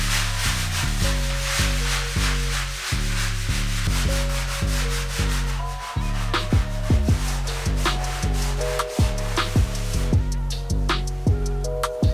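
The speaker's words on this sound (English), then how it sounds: "I'm gonna see if I can get this rust to come off." Flooring is scrubbed hard with CLR to lift embedded rust stains, a brisk rhythmic back-and-forth rubbing of roughly two strokes per second that stays close and loud throughout with no talking.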